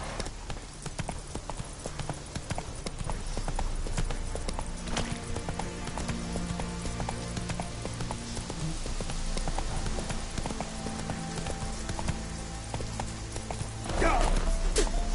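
The horse Roach gallops in The Witcher 3 video game, with steady, rhythmic hoofbeats that run through the whole stretch over an ambient game soundscape and swell louder near the end.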